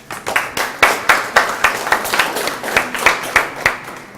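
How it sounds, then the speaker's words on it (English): Hands clap in a steady rhythmic beat, a small conference audience at a Blackmagic Design expo in Kenya applauding together close by, with sharp regular claps rising and falling. "Another round of applause for her, please."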